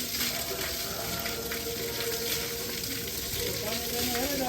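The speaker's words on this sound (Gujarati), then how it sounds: "આ બધું પાણી ઓલું છે, કોઈથી બંધ જ નથી થયું" Spring water at the Droneshwar Mahadev temple flows continuously, a steady moderate rushing and splashing wash with no pauses, heard alone.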